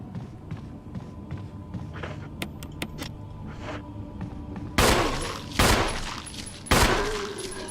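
Gunshots in Resident Evil inside a mansion, three loud sharp blasts spaced about a second apart near the end, after quieter footsteps and game ambience, no talking.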